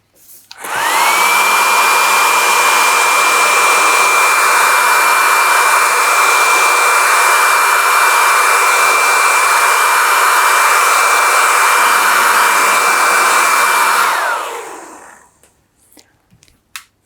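A hair dryer blasts on to dry watercolour paint, a loud steady close roar with a constant whine that runs unbroken for about thirteen seconds, then winds down and cuts off, followed by faint handling noises.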